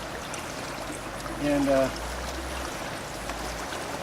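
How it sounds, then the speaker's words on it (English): Water trickling steadily out of a carbon filter outlet into a jug outdoors on an island, a soft continuous flow with someone briefly speaking over it. "this water comes out clean with that carbon filter on the output end that I put on"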